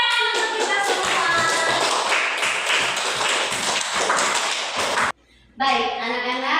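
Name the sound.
class clapping hands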